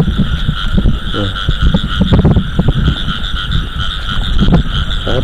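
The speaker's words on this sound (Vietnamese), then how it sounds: "Lụm được cặp ếch này các bạn." Field frogs croak at night in rice-paddy country, a dense, loud chorus of rapid rasping calls close by, overlapping continuously with a high insect-like hum behind them.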